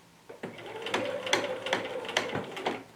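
A sewing machine stitches a flat seam in fabric, its needle striking in quick, regular mechanical bursts with a whirring hum between them, close and moderately quiet, no voices.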